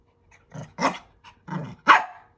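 A small Shih Poo dog gives several sharp, close barks in a row, mixed with short growly yips, in an otherwise quiet room.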